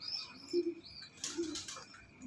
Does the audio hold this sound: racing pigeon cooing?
yes